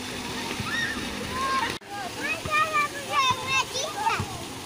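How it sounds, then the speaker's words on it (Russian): Outdoor garden water fountain splashing in a steady, close wash of water, with children's and adults' voices talking over it throughout. "Какой классный фонтан."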